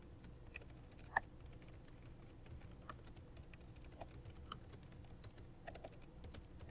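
Keystrokes on a computer keyboard while entering data into an Excel spreadsheet, a steady scatter of soft, close clicks with a few sharper taps over a low room hum.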